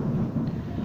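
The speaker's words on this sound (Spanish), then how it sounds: "está tronando fuerte" Thunder rolls loudly during a storm, a continuous low rumble that fills the short moment without any break.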